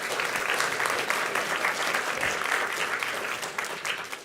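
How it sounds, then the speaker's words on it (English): Loud, dense applause from the audience at a school graduation ceremony, many hands clapping steadily and continuously with no pauses. "Let's give them another nice round of applause."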